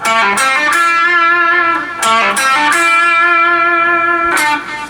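Overdriven electric guitar picks out five notes from a song, the last one held with a wavering vibrato, loud and unaccompanied.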